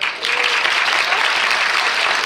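A festival audience applauds loudly and continuously, with dense clapping swelling quickly and holding steady from start to finish.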